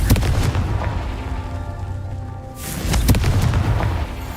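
Confringo blasting spells explode in Hogwarts Legacy, two heavy booming bursts a couple of seconds apart over a steady game-music background, each with a sharp onset and short rumbling tail.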